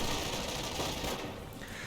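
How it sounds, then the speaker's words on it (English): Airborne strafing run in Company of Heroes, fairly faint rapid machine-gun fire rattling continuously for about two seconds within battle noise. "Airborne strafing run gets all the G43 squads pinned."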